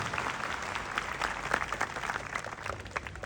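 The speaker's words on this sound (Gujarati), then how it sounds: "એટલા માટે એકવાર તાળીઓ થઈ જાય પોતાના માટે" An audience at a Sunday morning gathering claps together in a sustained burst of applause, dense and fairly close, lasting the whole stretch without speech.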